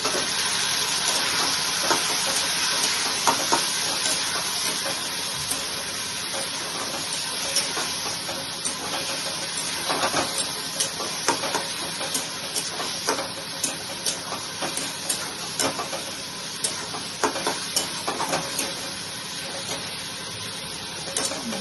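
Steady hissing sizzle with scattered crackles and pops from ginger, green chili and garlic paste frying in hot oil close by.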